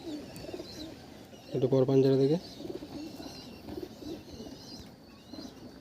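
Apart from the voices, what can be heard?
pigeons cooing in a loft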